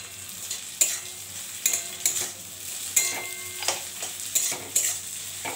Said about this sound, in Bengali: লঙ্কা, ডিমটা, পাস্তাটা দিয়ে দিচ্ছি।